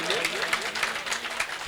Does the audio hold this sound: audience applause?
yes